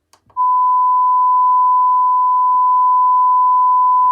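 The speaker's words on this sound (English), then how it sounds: "Here is a test sound tone using the built-in tester." A steady built-in test tone from the speakers of an HP 22X monitor, one loud, unbroken pure beep that holds for about four seconds after a brief click.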